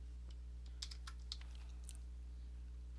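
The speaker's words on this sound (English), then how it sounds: "I'm just going to type in D metric" Computer keyboard typing while entering a spreadsheet formula: a short run of quick, light key clicks close to the mic over a steady low hum, with no talk.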